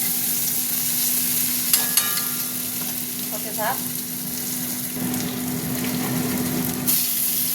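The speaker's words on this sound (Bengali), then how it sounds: "পেঁয়াজটা একটু ভাজা ভাজা হোক" Onion sizzles steadily in hot oil in a pan, a continuous close frying hiss with a few brief stirring scrapes and a short spoken remark.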